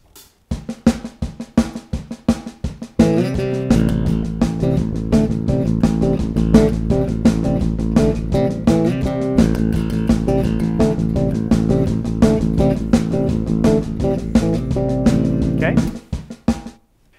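Bass guitar playing a riff, with punchy repeated notes over a driving backing track after a sparse opening, loud and close.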